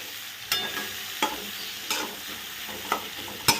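Onions sizzle and fry in a pan for a Bengali dhaikiri prawn dish, with a steady crackle broken by about five sharp stirring scrapes at regular intervals, close and alone.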